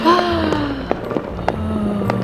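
Fireworks going off: several sharp pops and bangs spaced out over a couple of seconds, mixed with whistling, whining tones.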